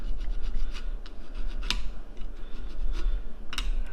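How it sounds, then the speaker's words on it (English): Scrubbing surface rust off a Ford F250 rear brake hub: steady rasping scratches with intermittent sharper metallic scrapes, close up, over a low hum and no talk. "it doesn't hurt to just remove that surface rust"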